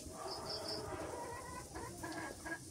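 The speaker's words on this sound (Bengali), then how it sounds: "সন্ধ্যা হইতেছে মুরগি গুলো ঘরে ঢুকছে" Chickens cluck softly as they go into their coop at dusk, with a few faint, scattered clucks and calls over low background noise in a rural home.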